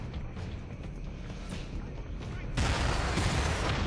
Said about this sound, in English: I have no time to be dodging these guys' missiles